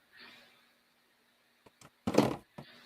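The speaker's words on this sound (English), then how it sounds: "I should just open the door" A BEERMKR home-brewing box door is opened: a soft scrape, a few small clicks, then one louder thunk and a short final knock, close and alone.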